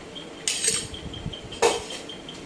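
A metal spoon stirs a thick tamarind pulp mixture in a pot, two distinct clanks against the rim with soft scraping between, close and clear with no talk.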